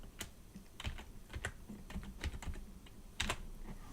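Computer keyboard typing a name into a text box, a handful of crisp, close key clicks in an irregular rhythm over a quiet room, with no talk.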